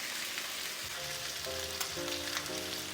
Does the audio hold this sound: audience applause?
no